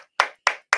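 Three sharp, close hand claps spaced evenly apart, each a crisp single smack with silence between.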